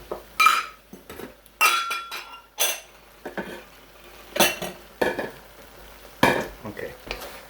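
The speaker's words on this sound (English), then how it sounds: "you cook the cornstarch as you stir frying" Shrimp stir-fried with cornstarch in a wok, a spatula scraping and clinking against the metal in repeated bursts over a soft sizzle, close and fairly loud.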